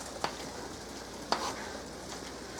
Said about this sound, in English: I'll let it finish getting browned up